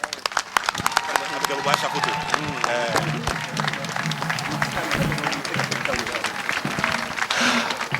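A crowd at a public event in Ghana applauds loudly, with dense sharp claps and voices mixed in throughout.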